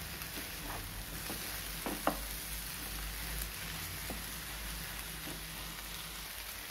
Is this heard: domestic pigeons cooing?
no